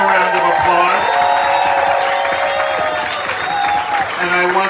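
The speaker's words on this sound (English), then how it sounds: "So if you'll give them a round of applause." A dinner crowd applauds the massage crew at a rider and crew dinner at Hawks Cay Resort, loud sustained clapping with scattered cheers, and a voice carrying over the applause.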